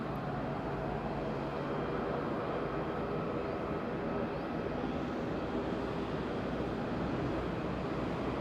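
Transavia airliner at Madeira Island Airport, a low, steady, distant engine rumble that stays even throughout with no voices over it.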